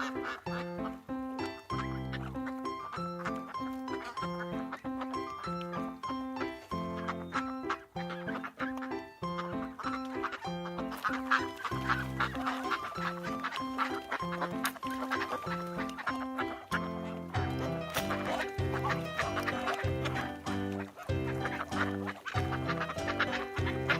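Duck quacks and other farmyard fowl calls sound repeatedly, close and fairly loud, over a continuous bright music backing.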